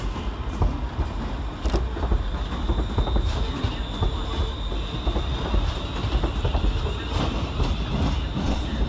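A ScotRail electric train, units 320311 and 318252 arriving from Motherwell to terminate, pulls into Glasgow Central with wheel rumble, rail clatter and a faint high squeal under the station's echoing noise.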